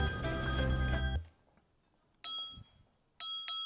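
A mobile phone rings with short, bright bell-like bursts: one ring, then two more close together. Music ends abruptly just before the rings, and the pauses between them are near silent.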